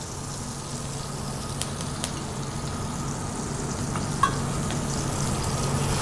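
Lion's mane mushroom sizzling in a pan of butter with rosemary, thyme and crushed garlic, a steady close hiss and crackle running throughout with a few small pops, no voices.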